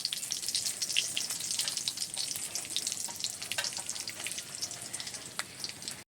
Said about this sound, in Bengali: দুটো শুকনো লঙ্কা দিয়ে দিচ্ছি তেলে।